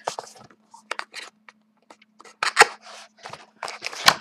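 A trading card box is cut open at close range: a series of short, sharp snips and scraping cuts in irregular bursts with quiet gaps between them, and no talking.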